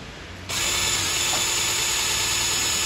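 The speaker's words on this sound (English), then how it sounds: "You see drilling from the inside" A power drill bores out a rivet on a gas mask strap, starting abruptly after a brief quiet moment and then holding a loud, steady high-pitched whine close up.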